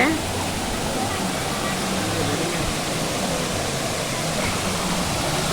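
Ella Uda Ella waterfall in Sri Lanka pours in a steady, dense roar of falling water that holds level throughout, broad and unbroken with no distinct events standing out.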